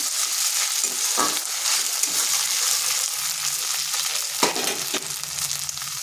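Ginger garlic paste and a green chili frying in hot oil with softened onions, a dense continuous sizzle up close, broken by a few scraping stirs.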